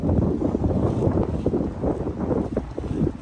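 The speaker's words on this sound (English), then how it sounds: "it is so incredibly windy" Strong wind buffets the microphone in a continuous low roar, gusting loudly throughout with no voices.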